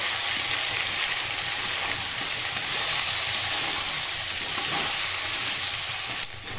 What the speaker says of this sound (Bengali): লবণ হলুদ দিয়ে আরেকটু আমি ভেজে নেব